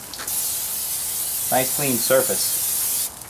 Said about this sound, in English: now we're going to spray a little bit of Pam on here